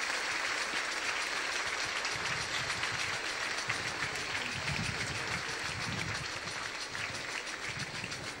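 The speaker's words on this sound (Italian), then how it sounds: "È stato questo applauso di ben tornata" Steady crowd applause at a Holy Week procession of Our Lady of Sorrows in Taranto, sounding as a dense, continuous wash of clapping throughout, with some low rumbling beneath.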